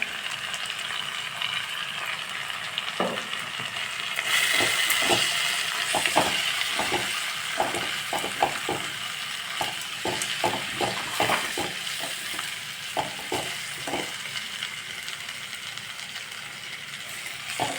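Ground spices fry in a pan, a steady sizzling hiss broken by many rhythmic scraping stirs of a spoon against the metal, close up and continuing throughout.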